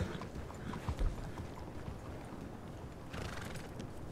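Game-style horse hooves clip-clopping at a steady trot, moderately close, with a brief whinny-like burst; no speech.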